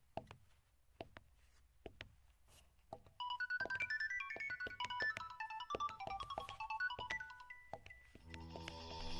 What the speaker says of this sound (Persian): تلفن زنگ زده ایستاده است نمیشنوی؟